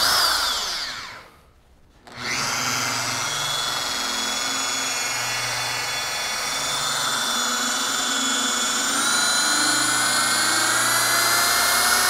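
A UDOS 51E polisher spools up after a short dip and runs at speed 3, a loud, close, steady electric whine with a smooth hum underneath, rising slightly toward the end, no talking.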